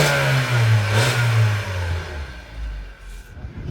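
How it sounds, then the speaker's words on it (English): A car's engine revs hard through its exhaust during a rev test at an Australian car auction, a loud, low, rising and falling roar that fades toward a lower idle. "we need a rev test"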